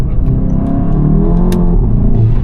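A VW Golf 7.5 GTI engine rumbles steadily and loudly at night, revving with a low, throaty drone throughout.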